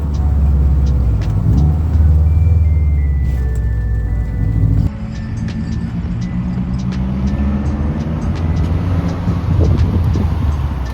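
A BMW 2002 engine rumbles loudly through aftermarket headers while driving, a deep continuous drone with a brief dip in the middle and a low exhaust burble throughout, no talking.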